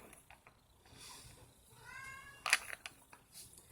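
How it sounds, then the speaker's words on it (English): A cat wanting to go out gives a single close, clear meow at mid-clip, followed by sharp clicks and knocks. "The other one hadn't gone out yet, so he was meowing"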